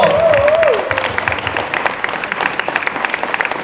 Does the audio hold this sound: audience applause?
yes